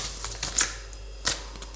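Tarot cards shuffled for a love reading, two brief crisp riffling bursts over a steady low hum, close and moderately loud with no talking.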